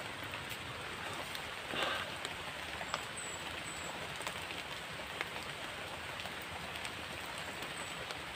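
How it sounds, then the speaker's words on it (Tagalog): Steady rain patters and hisses on surfaces, a dense continuous wash of drops at moderate distance with no other sounds standing out. "Ulan."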